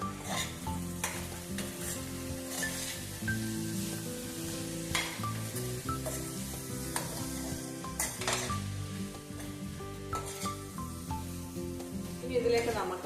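A spoon stirs vegetable curry with chili powder in a hot pan, with steady sizzling and frying and repeated scrapes and clinks of metal against the pan, close and continuous.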